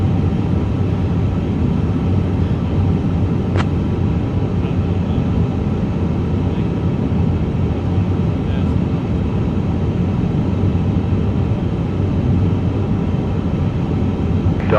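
An Airbus A350 jet takes off down the runway in heat and humidity, a steady loud engine roar with broadband rumble that stays constant throughout, with one brief click partway through.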